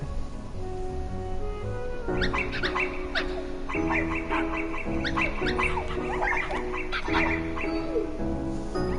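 Puppies and dogs in a Kingdom Hearts Final Mix cutscene set in the Dalmatians' home, with repeated yips and barks over a steady musical backdrop, lively and close.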